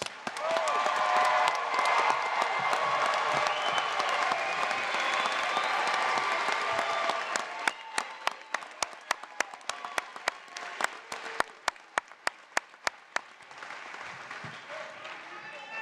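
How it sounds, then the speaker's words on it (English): A large crowd applauds at a winter commencement ceremony, a loud sustained wash of clapping that thins out into scattered individual claps and sharp slaps before quieter crowd murmur. "Let's do one more big round of applause."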